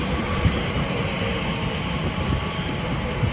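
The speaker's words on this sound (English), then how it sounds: "now arriving is the 12:49 London Underground District Line service from Upminster to Ealing Broadway" A London Underground District Line train pulls into Ealing Broadway. Its steady loud rumble and rolling wheel noise fill the platform, with faint knocks and no voices.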